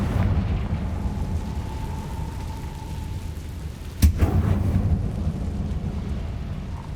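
A Confringo fire spell explodes in the video game Hogwarts Legacy as a single sharp, loud blast midway through a steady rumbling game ambience.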